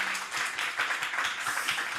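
Applause from guests at a CEO club networking party, a dense, even patter of many hands clapping that continues without pause for about two seconds, moderately loud and close.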